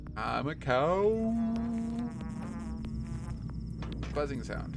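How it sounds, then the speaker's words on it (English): A buzzing insect drones inside the video game Pathologic 2, a steady, fairly close hum that starts with a rising whine, holds for about a second and then sits faintly under background ambience. "Buzzing sound."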